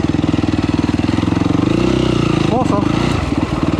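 A quad ATV engine runs steadily on a trail, overheating, its loud pulsing close-up drone holding throughout as someone speaks briefly over it.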